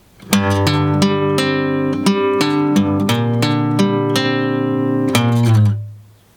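Acoustic guitar notes and chords from a song intro are played in a steady rhythm, with a sliding note at the end before the sound fades out.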